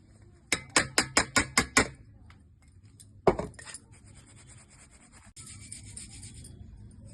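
Ground lentil flour, blended with roasted chana dal, is sifted through a sieve in a home kitchen while making janthikalu. About seven quick, sharp taps sound close by, then one louder knock and a stretch of soft rubbing and scraping.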